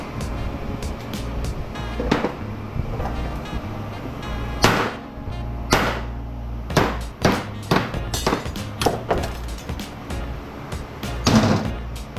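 Scrap metal being hammered on an anvil while processing scrap for copper: sharp, loud, irregular metallic strikes, some in quick pairs, others spaced apart, ringing close over a low background hum.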